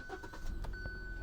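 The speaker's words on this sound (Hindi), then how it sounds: "जैसे आप गाड़ी स्टार्ट कीजिएगा क्लच प्रेस करके" A Hyundai i20 SportZ engine cranks and starts with the clutch pressed: a short, dense burst of starter whir and mechanical rattle over a low rumble, heard close up with no talking.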